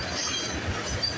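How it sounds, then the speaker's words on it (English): A CN eastbound freight train passes on the line with a continuous broad rumble and rolling wheel clatter on the rails, heard steadily and fairly close, with no talk. "we got a CN eastbound train coming down the line"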